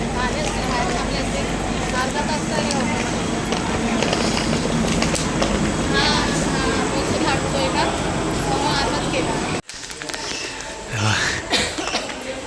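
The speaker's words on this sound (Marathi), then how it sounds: "ट्रेन पण लगेच सुटली" A train pulls out of Rajapur station in the Konkan, giving a continuous loud rumble and clatter of rail cars that suddenly cuts off near the end, with people talking and coughing nearby.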